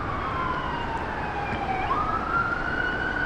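An ambulance siren wails in a steady rising and falling tone through continuous street and traffic noise, moderately distant and passing along, with no talk over it.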